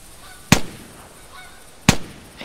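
Two separate honks from geese in theHunter 2015 hunting game, each a short, loud call spaced over a second apart against quiet outdoor ambience.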